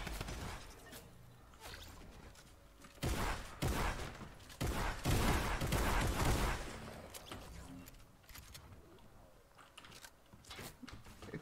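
Bursts of Fortnite gunfire crack through a quiet background, a dense volley in the middle followed by scattered sharper shots.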